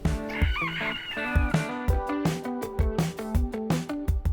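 Roosters crowing loudly and close by, one long cock-a-doodle-doo followed by overlapping crows and clucks in a busy, repeating pattern; no talking.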